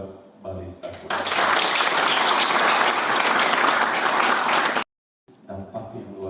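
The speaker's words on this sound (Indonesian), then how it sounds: "Aplaus buat Balista." A hall crowd at a Bali Stars College ceremony in Ubud breaks into loud, sustained applause lasting several seconds. A voice speaks over a microphone just before it starts, the clapping cuts off abruptly, and talk resumes afterward.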